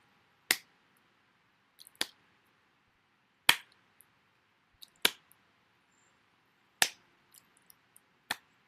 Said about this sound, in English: So open, clap, open, clap.